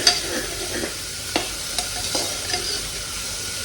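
Onions fry in a pan for a simple onion-tomato salted rice, a constant close sizzle broken by several sharp spoon-stirring clicks and scrapes, with no voices.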